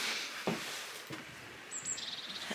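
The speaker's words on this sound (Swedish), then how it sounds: "Hör ni fåglarna?" A few short, high bird chirps and a thin whistled call ring out over quiet forest ambience, fairly faint and sparse.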